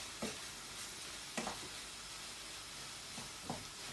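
Mince frying in a pan while being stirred, a soft steady sizzle broken by a few brief scraping stirs, quiet and close with no talking.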